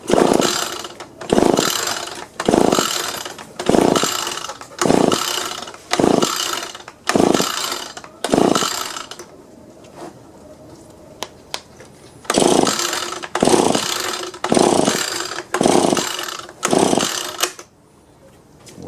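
An Echo two-stroke leaf blower being cranked repeatedly without starting: a run of rhythmic pull-cord bursts, a pause with faint clicks, then another series of pulls, close and loud.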